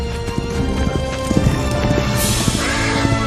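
A wild horse from a Santa Clauses film scene gallops, its hooves clip-clopping in a fast, loud run, with a whinny rising near the end.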